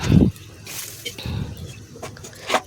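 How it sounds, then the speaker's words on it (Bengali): Water being poured into a cooking pan of braised fish, a short splash followed by scattered drips and trickles, close and fairly quiet. "আমি জলটা দিয়ে দিলাম।"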